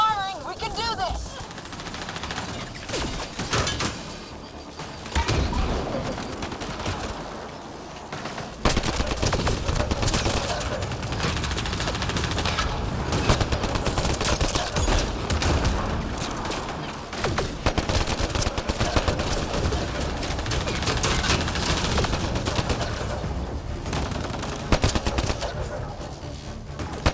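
Heavy gunfire in the Mass Effect Andromeda video game: rapid automatic bursts and repeated shots firing almost nonstop, loud and dense, mixed with battle effects and occasional character voices.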